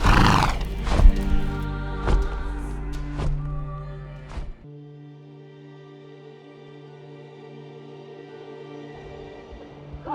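A winged horse in the fantasy video game Argonus and the Gods of Stone gives loud, close neighs and snorts with heavy thuds in the first few seconds. A sustained game music drone then continues alone.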